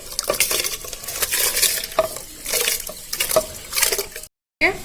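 Washed kaima rice tipped into a cooking pot for egg biryani, then stirred with a utensil: wet scraping and clinking against the pot in uneven strokes, close up, with a brief silent gap near the end.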